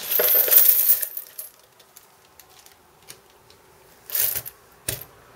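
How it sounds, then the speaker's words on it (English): Dimes, nickels and quarters being handled and poured, a bright metallic jingle at the start, quiet light clinks through the middle, then two more short bursts of clattering coins near the end. "So I'm working on my third batch. This is the dimes, nickels, quarters."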